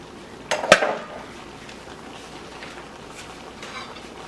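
Chunks of plantain and yuca drop into a cooking pot for sancocho, giving a couple of quick close clanks and splashes, followed by quiet bubbling and faint kitchen clatter.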